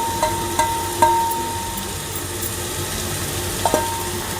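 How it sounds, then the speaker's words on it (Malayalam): Chopped mushrooms sautéing in melted butter in a pan, a low continuous sizzle punctuated by several sharp metallic clinks of a utensil against the pan. "ഇനി നമുക്ക് ഇതിലേക്ക് നമ്മൾ അരിഞ്ഞു വെച്ച മഷ്റൂം ഇട്ട് കൊടുക്കാം."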